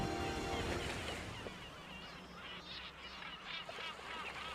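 Gulls and skuas call noisily at sea while feeding on fish, a dense overlapping chorus of harsh squawks over steady water and engine noise.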